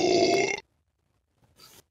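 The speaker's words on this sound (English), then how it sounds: "They're burping." A Smite character lets out a loud, drawn-out burp lasting about half a second, then silence, followed by a second, fainter and shorter belch-like grunt.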